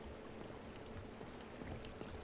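Water poured into place and flowing in Minecraft, a faint, steady wash of trickling noise that runs unbroken for a couple of seconds.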